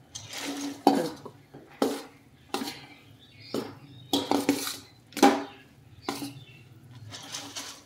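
A spoon scrapes and knocks against a pan while boondi is stirred for sugar laddu, giving irregular clattering strokes roughly once a second, close and clear, with quiet pauses between.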